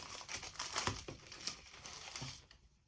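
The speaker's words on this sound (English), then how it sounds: "I'm just gonna have to rip them open as is" Damaged plastic packaging on DVD protective sleeves gets ripped open up close, giving quiet, irregular crinkling and tearing bursts that thin out toward the end.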